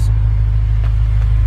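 A BMW M5 fitted with an Akrapovic exhaust, heard as a loud, deep, steady idling rumble close to the tailpipes, with a faint pop or two, and no talk.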